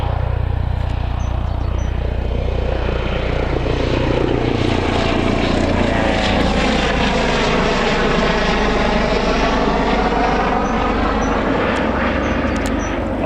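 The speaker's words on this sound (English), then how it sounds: "Yeah, got the chopper going out." A police helicopter departing Newcastle Airport, its loud continuous rotor and engine roar sweeping and shifting in pitch as it moves past, steady throughout with no talk.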